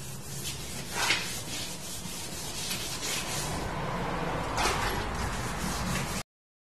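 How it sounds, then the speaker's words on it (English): Wet sanding of a tinted, smoked plastic tail light with 360 grit sandpaper in straight one-direction strokes, a soft gritty rubbing that swells and fades with each pass, close and fairly quiet, with no talk. "So I just finished up sanding with the 360 grit sandpaper"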